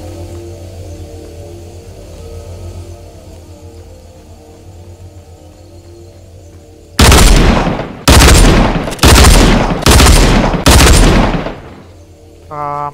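Five loud, close bursts of gunfire from the Fortnite video game, each about a second long and spaced in a steady rhythm, coming after a stretch of quieter game background sound.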